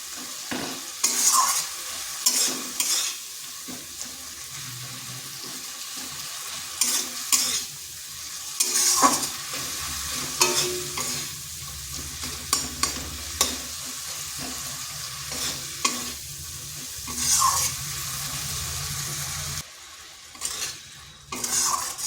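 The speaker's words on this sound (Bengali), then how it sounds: "মশলাটা একটু কষে নিচ্ছি। মশলাটা কষতে কষতে টমেটোগুলোও গলে যাবে।" Spice paste with tomatoes frying in oil in a wok, a steady sizzle under repeated scraping and clinking strokes of a spatula against the pan, close and fairly loud throughout, with no voices.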